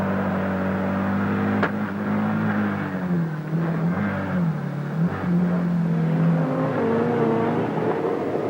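A 1984 rallycross car driven flat out onto tarmac toward a chicane, its engine roaring loud and close with rising revs, a quick gear change dip, then sustained full-throttle drone.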